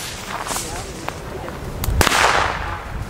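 A sharp bang from a 1.5-gram firecracker cuts through faint background noise, followed by a brief crackling tail; a few smaller clicks come before it.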